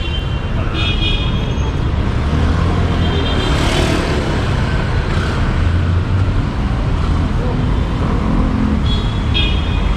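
Street traffic on P Burgos Street in Makati during quarantine, a loud, continuous roadway roar of passing cars and heavier vehicles with a few brief horn toots, heard up close.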